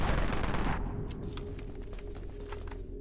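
Tempest gun fired in the video game Dead Frontier, a rapid rattle of shots that starts dense and loud, then thins into quieter spaced bursts over a low hum.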